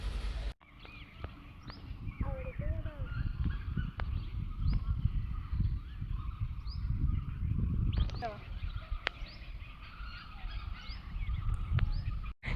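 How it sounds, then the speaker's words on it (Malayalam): Birds calling on a rocky hill at Cheppara in Kerala, several squawks and honking calls scattered over a steady outdoor rumble of wind, with people talking nearby. "നമുക്ക് നിറയെ പക്ഷികളെ കാണാനും അവരുടെ ശബ്ദം കേൾക്കാനും പറ്റും"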